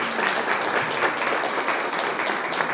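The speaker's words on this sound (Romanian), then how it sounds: "Aplauze" An audience applauds at a cultural event honoring a journalist in Onești, Romania, with dense, sustained clapping that holds steady and close for the whole stretch.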